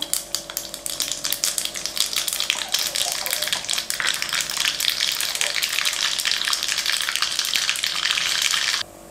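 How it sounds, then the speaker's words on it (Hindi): Mustard seeds crackle and sizzle in hot oil for rava dhokla tempering, a dense, continuous spitting hiss close by that holds steady and then stops abruptly. "तेल को गरम करने के लिए रखा है मैंने अब हम उसमें राई डालेंगे"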